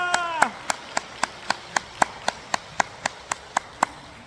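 A church congregation claps in unison, about fifteen sharp, evenly spaced claps in a steady beat, preceded by a brief sung or spoken voice at the start.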